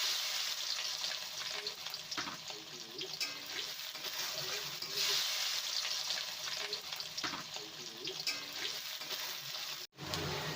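Bay leaves, green chillies and onion frying in oil in a pan for a Bengali mixed vegetable dish, with a continuous close crackling sizzle, occasional stirring scrapes and a brief break near the end, with no voices.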